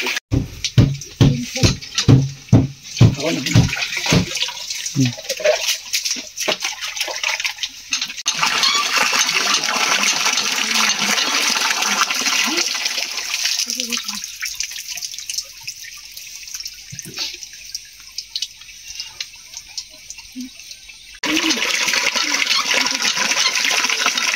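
Water runs and splashes during a bath, starting with rhythmic pouring splashes and then settling into a steady loud stream that stops and resumes, with faint voices at moments.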